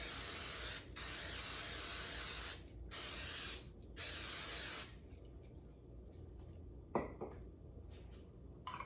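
Cooking spray hisses into a casserole dish in four steady bursts of one to two seconds each, loud and close, followed by quieter clinks and handling sounds of the dish.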